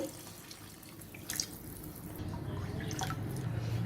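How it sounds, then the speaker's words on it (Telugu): Water trickles and splashes as it is poured into a pot of rice and moong dal, a faint, soft running sound with a few drips, growing slightly fuller toward the end. "ఇప్పుడు ఇందులో మనం నీళ్లు వేసేసుకోవాలి"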